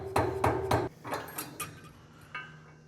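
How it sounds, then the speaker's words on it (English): Dead blow hammer tapping a pilot runner out of a mold, giving about seven sharp, close knocks: three heavy evenly spaced hits, then lighter quicker taps that fade out. "you may have to use a hammer. Use a dead blow."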